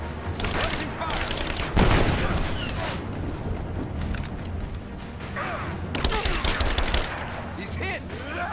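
Dense gunfire from enemy soldiers laying down suppressing fire in Rise of the Tomb Raider on hard mode: continuous rapid shots and bursts, loud and close, running the whole time with heavier volleys around the middle and the end.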